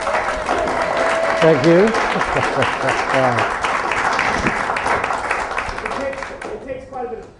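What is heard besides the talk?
applause for city council candidates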